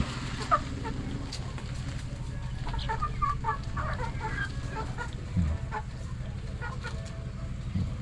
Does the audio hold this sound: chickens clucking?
yes